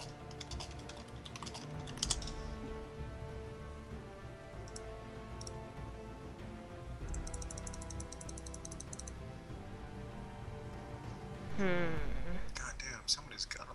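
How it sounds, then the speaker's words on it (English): Rapid, light clicking of computer keyboard typing during a League of Legends match, continuous and close, with soft speech and game sounds underneath and a brief louder burst near the end. "I'm typing"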